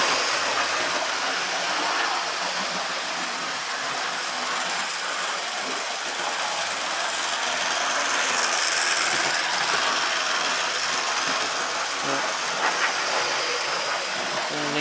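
Two DC model locomotives run at full speed, giving a constant loud rushing hiss and mechanical drone that holds steady without a break throughout.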